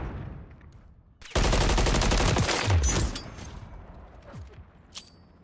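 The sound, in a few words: gunfire in Call of Duty video game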